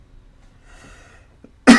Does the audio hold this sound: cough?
yes